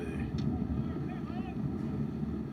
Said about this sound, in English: Now the wind blowing out. I'm sure you could hear it in